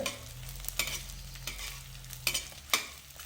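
Edible gum (dink) fries and puffs in hot oil in a pan for besan ladoo. A steady sizzle runs throughout, broken by sharp crackles and pops at irregular intervals. No one speaks.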